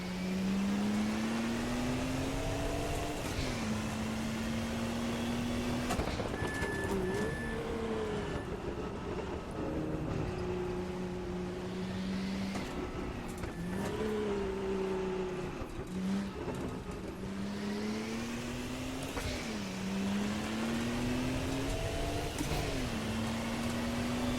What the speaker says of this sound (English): Let's listen to that turbo.